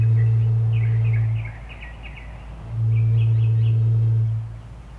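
A low hollow tone blown through a hollow stick, sounding twice as steady sustained notes of about a second and a half each, with a short pause between them and faint chirping in the background.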